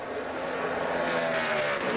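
A NASCAR race car at Indianapolis runs near top speed, its engine a loud, steady high-pitched roar held throughout with no break.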